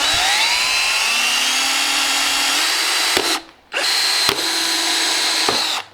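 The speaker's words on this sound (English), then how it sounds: "then I'll drill through and make holes so I can then bolt it on the top of the fender." Power drill boring holes through a plastic pit bike fender, a loud steady whine that runs for about three seconds, cuts off briefly, then resumes and stops near the end, with no voices.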